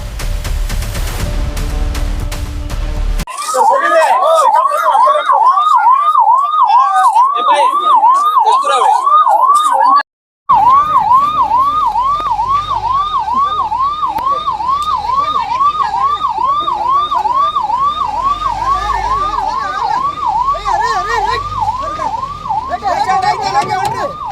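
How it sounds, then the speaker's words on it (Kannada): An ambulance siren wails loudly and continuously at a farmers' highway blockade protest, its rising and falling tone close and dominant, with a brief break and traffic rumble beneath. "ಸರ್, ಆಂಬ್ಯುಲೆನ್ಸ್ ಅದು ಬಿಡಾಕ್ತೀರಿ"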